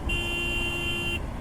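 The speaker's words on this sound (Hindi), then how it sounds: "इसका हॉर्न चेकआउट करिए।" Horn of a TVS Apache RTX 300 motorcycle sounding in one steady, loud blast of about a second over low engine and road rumble, then cutting off.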